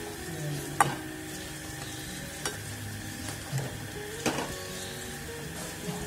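Potatoes with sesame paste and Kashmiri chilli frying in a pan, stirred with a spatula: a steady soft sizzle with a few sharp scrapes and taps against the pan, no voices.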